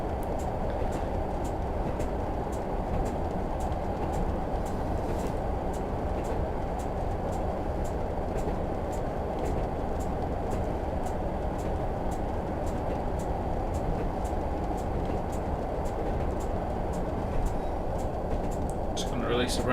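A Class 101 DMU in Train Simulator runs at steady speed, its diesel engine and rolling wheels forming a continuous, even rumble with regular rail clicks, close and unchanging throughout.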